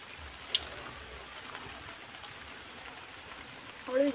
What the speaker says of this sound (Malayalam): അപ്പൊ അത് നല്ല മഴ ഉണ്ട്.